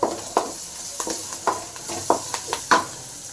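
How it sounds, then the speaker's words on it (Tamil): Crushed garlic frying in a pan for an agathi keerai and egg dish, a steady close sizzle broken by a string of sharp stirring scrapes and clinks, with no one talking. "இடித்த பூண்டு போட்டுடலாம் இதை போட்டு அதையும் நல்லா ஃப்ரை பண்ணிக்கலாம்"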